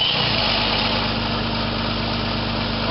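A Jeep Cherokee XJ Mk1 with a 4.0 petrol engine and a bypassed immobiliser idles with a steady, loud, even rumble. No start is audible, only continuous running.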